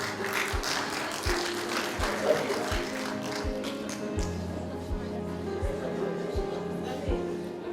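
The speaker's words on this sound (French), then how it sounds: "Un grand applaudissement pour Mona, la fille de..." An award ceremony crowd claps at a closing prize-giving, moderately distant applause mixed with room murmur and a steady low thumping pulse in the background.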